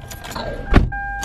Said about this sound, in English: so we are driving.